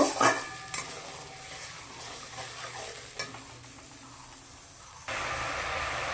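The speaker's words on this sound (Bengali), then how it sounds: "দিয়ে মশলাটাকে ভালো করে কষিয়ে নিব" Spice masala with salt sautés in a pan for a black chickpea curry. A quiet sizzle runs under occasional spoon-against-pan knocks and stirring scrapes, close by, growing a little louder near the end.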